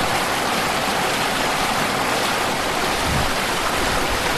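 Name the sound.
waterfall beside an Alpine road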